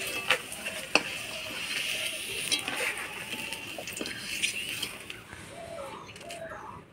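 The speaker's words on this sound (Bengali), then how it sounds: "কাঁচা কলাটাও তেলের মধ্যে নাড়াচাড়া করে নিলাম" Raw green banana pieces are stirred in hot frying oil, making a continuous close sizzle with light scraping and clinks; faint bird calls drift in the background and no one speaks.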